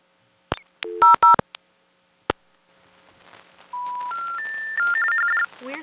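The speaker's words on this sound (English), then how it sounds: "I dialed the payphone number of the payphone that I was using" Touch-tone dialing on a payphone: a quick run of sharp dual-tone keypad beeps, then a few rising steady tones, ending in a faint low tone, clear and close.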